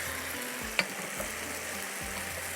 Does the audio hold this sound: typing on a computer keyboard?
no